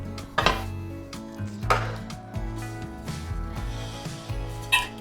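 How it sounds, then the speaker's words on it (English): A big metal bundt cake pan handled on a counter, giving several sharp clanks and knocks at irregular intervals over soft background music. "I'm gonna cook this in a nice big bundt pan."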